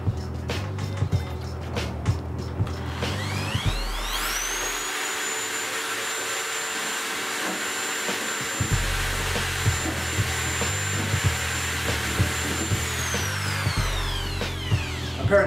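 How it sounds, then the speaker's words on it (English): A power drill whines loudly for several seconds while drilling into an OUKITEL WP6 rugged phone, pitch rising as it spins up, then winding down, with grinding and rattling contact throughout. "Let's see what damage this drill can do to it."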